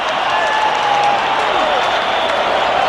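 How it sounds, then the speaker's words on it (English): A large rugby test match crowd at South Africa versus New Zealand roars and applauds in a steady, dense wash of noise, with a commentator talking over it. "And the crowd celebrate."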